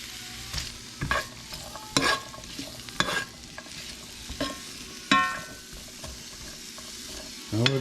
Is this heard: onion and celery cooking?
yes